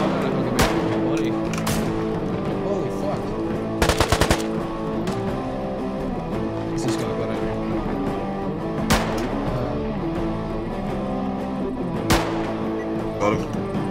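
Bursts of automatic gunfire in the survival shooter Deadside, sharp repeated volleys around four seconds and scattered single shots, over a steady background game hum, with a player's voice faintly heard.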